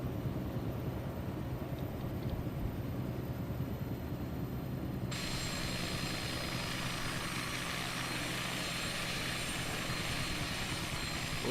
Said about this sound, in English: Sometimes it's hard to fly a helicopter from the outside because you kind of lose orientation.